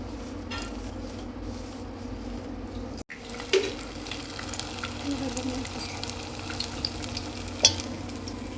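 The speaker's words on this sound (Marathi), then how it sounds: "तेलात टाकलं की ते आवाज येतो तडतड" Shaped dough fries in hot oil with a steady, close sizzle and scattered sharp crackles and pops, with no voices.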